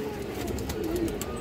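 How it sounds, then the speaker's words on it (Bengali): A silver Beji female pigeon coos softly and steadily at close range, a low murmuring call with no talk over it. "সিলভার বেজি মাদি কবুতর"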